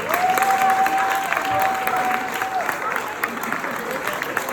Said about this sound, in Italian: rifatevi un applauso perché ve lo meritate